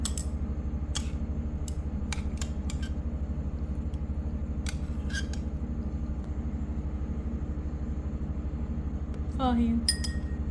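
Dishes clinking and clattering as they are washed in a home kitchen, scattered light knocks and clinks over a steady running-water hiss, with a brief scraping screech near the end.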